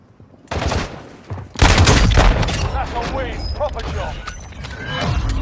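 A powerful gun in Call of Duty Warzone fires loud, close shots in rapid succession, with a sharp burst near the start and a heavier blast midway, while someone talks over the shooting.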